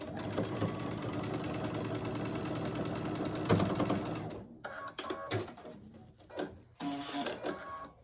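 A sewing machine stitching quilt block pieces together, a rapid steady mechanical whirr for about four seconds, then stops and follows with short stop-start bursts of stitching and clicks.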